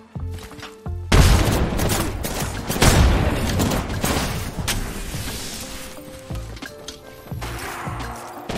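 A heavy grenade blast and sustained gunfire in Apex Legends, with loud booming explosions and rattling shots filling most of the stretch, then fading into scattered quieter game effects.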